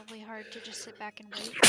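A single sharp, loud sneeze bursts out at the very end, right after a stretch of ordinary conversational talk during a tabletop roleplaying session.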